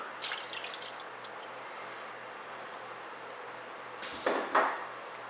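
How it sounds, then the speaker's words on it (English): Water pours briefly into a pot of chicken broth, with a short splashing gush near the start and another toward the end over a quiet background hum. "So we're adding in our chicken broth, and we're going to add in some water."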